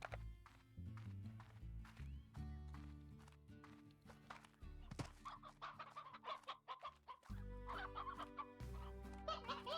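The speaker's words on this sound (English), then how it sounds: "Oh, look at how old this rooster is." A rooster in the video game Slime Rancher clucks repeatedly in quick rhythmic bursts over a steady backdrop of game music and tones, the clucks close and prominent throughout.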